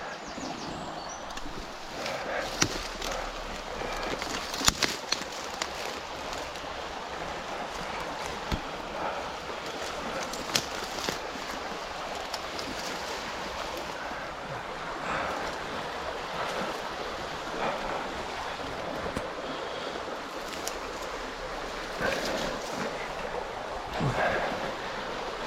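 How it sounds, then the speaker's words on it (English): A mill stream near Jews Bridge in South Devon rushes and flows in a continuous broadband wash, steady and fairly close, with wind buffeting the microphone now and then. "Yeah, there's the mill stream."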